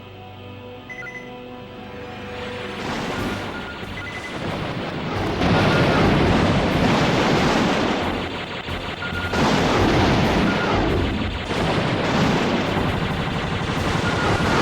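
Laser cannon shots in the PS1 on-rail shooter Vanark, a dense, loud barrage of repeated blasts layered over game music and explosions, building in intensity and sustained throughout.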